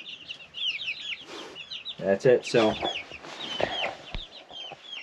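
Chickens of several colours cluck and chirp in a steady, busy stream inside a coop under red light, close and clear, with brief speech partway through.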